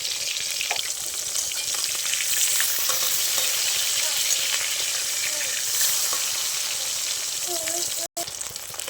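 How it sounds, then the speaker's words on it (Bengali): Rohu fish frying in a wok of hot oil gives a steady, loud, close sizzle, with occasional stirring scrapes and light clinks throughout and no talking. "মাছগুলো আমি সব ভেজে নেব।"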